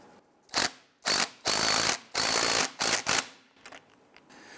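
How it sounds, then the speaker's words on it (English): A socket ratchet cranks down the adjuster sleeve clamp nut on the front outer tie rod of a 1999-2004 Jeep Grand Cherokee, sounding as six short, close clicking bursts with brief pauses between them and a few faint ticks at the end. "Now on our adjuster sleeve clamp right here, go ahead and tighten down this nut here."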